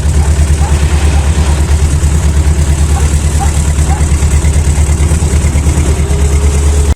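A car engine runs roughly nearby on a cold start, loud with a rhythmic low chugging pulse that stays steady throughout.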